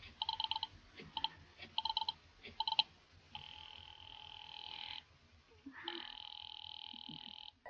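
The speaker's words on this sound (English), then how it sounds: "Ringing the police department." Vintage telephone ringing in a 1940s radio drama: four quick bursts of double-tone bell rings, then two long steady buzzing rings, faint and slightly hissy, with no talk over them.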